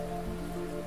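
Heavy rain sound effect in a horror audio story, a steady dense hiss of pouring rain filling the background without any break.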